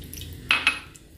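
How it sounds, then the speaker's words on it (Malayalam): A cooking pan set down on a kitchen stove before frying oil is added: two quick metallic clanks close together, near and moderately loud, over a quiet room hum. "പാത്രം അടുപ്പത്ത് വെച്ച്"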